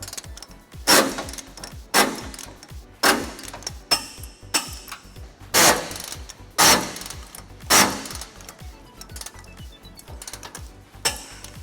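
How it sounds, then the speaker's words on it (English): A ratchet fitted with a 19mm socket clicks in repeated bursts while tightening trailer hitch bolts on a 2008 Ford Ranger, each stroke giving a sharp run of ratcheting ticks, close and alone. "We're going to be using a 19mm socket to tighten all those down."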